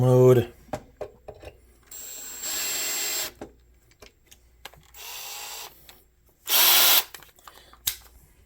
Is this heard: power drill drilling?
yes